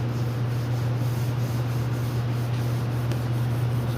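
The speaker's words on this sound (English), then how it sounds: "we're wet sanding the 2K primer with 400 grit sandpaper to give you that smooth finish before your base coat" Wet sanding 2K primer with 400-grit sandpaper on a 1966 Malibu body: a steady, continuous rubbing hiss over a constant low hum, with no talk.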